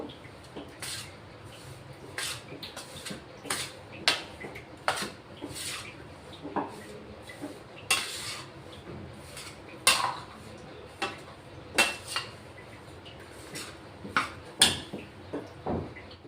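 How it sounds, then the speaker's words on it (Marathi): A spoon scrapes and clinks rhythmically against a pan while mixing laddu ingredients with cardamom powder, with regular metallic knocks roughly every second, close and clear, and no talk. "दोन चमचे वेलची पूड घेतलं आहे ते आता आपण मिक्स करून घेऊ"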